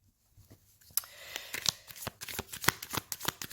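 Tarot cards are shuffled for a reading, a quick run of crisp riffling snaps and papery flutters starting after a quiet moment, close and fairly soft, with no talk over it.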